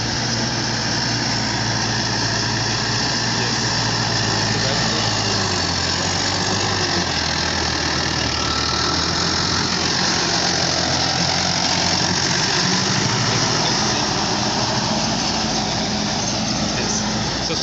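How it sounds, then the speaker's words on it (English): A tractor's diesel engine drones loudly and steadily with a rough, knocking rumble that holds constant throughout as it plows a field close by. "right now it's all happening through the tractor."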